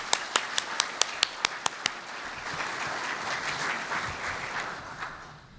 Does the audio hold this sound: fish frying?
no